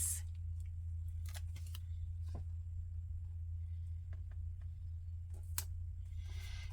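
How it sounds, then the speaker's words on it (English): Scissors snip through paper to cut a corner piece for a planner, a few short, crisp cuts spaced apart over a steady low background hum. "I'm going to take this one and cut it right straight down there so that I have a corner piece."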